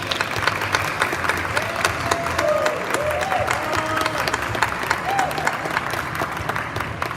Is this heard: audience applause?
yes